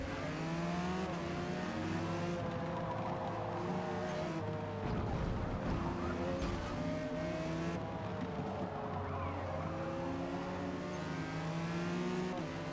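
A race car in Forza Motorsport locks up its brakes, with a loud, continuous engine drone, shifting revs and tire squeal throughout and no speech.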